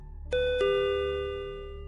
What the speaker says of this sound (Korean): 그 순간 누가 초인종을 눌렀어.